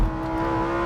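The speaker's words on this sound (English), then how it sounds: "that V10 engine remains an absolute standout feature" Lamborghini Huracan STO naturally aspirated V10 engine revving, a close, loud, sustained tone with rich low harmonics holding steady for under a second.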